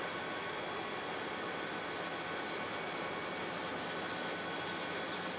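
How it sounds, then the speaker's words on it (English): Finish is rubbed by hand into a wooden disc on a lathe, producing a continuous, even hiss of friction with faint repeated strokes and no voices. "I do this by rubbing it in versus spinning the lathe, because I want to make sure this first coat is really in there well."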